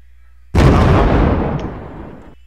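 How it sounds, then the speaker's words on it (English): A plasma bomb detonates in a video game, one massive booming explosion that erupts suddenly and rumbles on for about two seconds before cutting off. "this is just an example of a plasma bomb"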